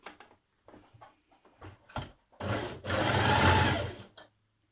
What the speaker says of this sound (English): Now you're going to stitch this long edge of your sleeve band